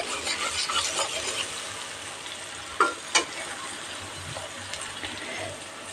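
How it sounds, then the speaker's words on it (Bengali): Kashmiri chili powder mixed with water frying in hot oil while being stirred, a steady close sizzle with a couple of sharp scraping knocks from the spatula, no talking. "তেলের উপর জলে গুলে কাশ্মীরি চিলি পাউডার অ্যাড করলে কালারটা ভালো আসে নেড়ে দিলাম বেশিক্ষণ ভাজবো না"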